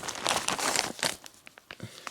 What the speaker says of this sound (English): See, there's some of these, a lot of these plastic bags.